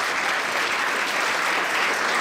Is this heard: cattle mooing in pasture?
no